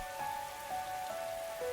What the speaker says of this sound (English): And it's raining too. It's really coming down hard.